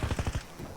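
Automatic gunfire from the video game Call of Duty Warzone: a quick burst of about five close, punchy shots in rapid rhythm, then a brief fading tail.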